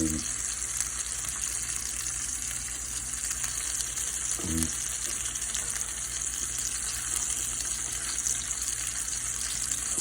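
Largemouth bass fillets fry in a pan with a steady, close sizzle that runs without a break, plus one brief low knock partway through.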